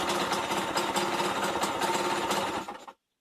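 A Yamaha DT50MX motorcycle engine idles steadily with a rapid, buzzy two-stroke chatter, close and loud, before cutting out abruptly near the end.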